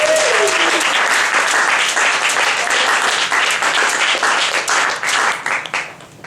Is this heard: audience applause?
yes